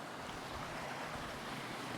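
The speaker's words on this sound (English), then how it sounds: "the waterfall is really loud today" A loud waterfall roaring nearby, a dense, steady broadband rush of falling water that fills the whole clip without pause.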